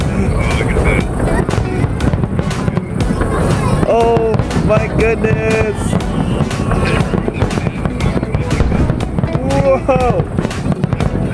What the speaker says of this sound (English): That is a whole lot of fireworks.